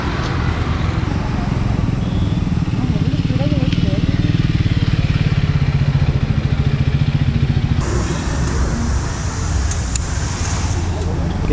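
A new Royal Enfield-style dual-purpose motorcycle engine runs steadily throughout at close range, with rumbling road noise and wind.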